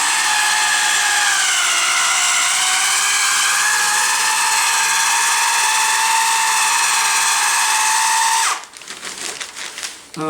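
A power drill whining loudly and continuously at high speed for several seconds, pitch slightly wavering, then cutting out into a stuttering series of short bursts as it slows and stops.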